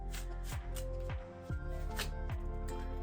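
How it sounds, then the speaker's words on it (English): Tarot and oracle cards shuffled by hand in a quick series of soft riffling flicks and slaps, close and alone with no talk. "I'll just shuffle other cards also."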